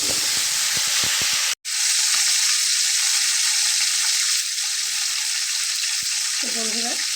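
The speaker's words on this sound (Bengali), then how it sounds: "তো বন্ধুরা, ঢ্যাঁড়সগুলোকে একটু ভেজে নেব।" Okra sizzles and fries steadily in a pan for a Bengali vegetarian bhindi posto dish, with a loud continuous hiss running throughout, a brief gap near the start, and a few faint clinks of stirring.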